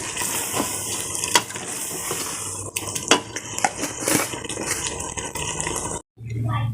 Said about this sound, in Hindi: अब मैं इसमें 1 चम्मच गरम मसाला डाल दूँगी और इसको अच्छी तरह से मिक्स कर लूँगी।